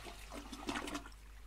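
A toilet in the horror video game The Darkest Woods flushes with one quick, close whoosh of rushing water that fades into a trickle.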